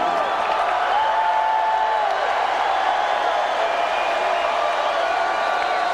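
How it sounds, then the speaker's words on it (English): Stadium crowd at a packed college football game, Kansas State at Oklahoma, giving a steady, broad roar of cheering and applause that holds loud throughout, with a commentator talking over it. "This has been a great crowd today."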